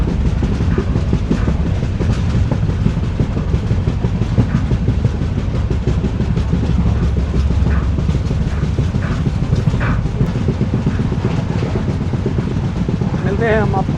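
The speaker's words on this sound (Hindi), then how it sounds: "हमारी ट्रेन ने रफ्तार पकड़ ली है।" The 14505 Nangal Dam Express rolls at speed with a loud, continuous rumble and repeated wheel clatter on the rails, heard close from inside, with a brief squeal near the end.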